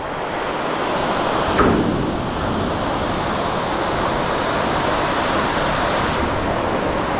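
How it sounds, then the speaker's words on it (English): Drung Waterfall in Gulmarg, a constant loud broadband rush of falling water, steady and close throughout with no speech. "This is Drung Waterfall."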